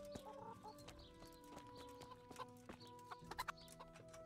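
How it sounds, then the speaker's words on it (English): Chickens cluck in a hen house in the video game Kingdom Come: Deliverance, a scattering of short, soft clucks and calls over a quiet farmyard background. "I found a hen house here."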